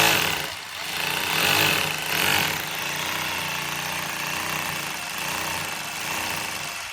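Power drill boring into a 2.5-inch house wall for an antenna mount, a harsh continuous grinding whine with slight swells, fairly close and steady for several seconds.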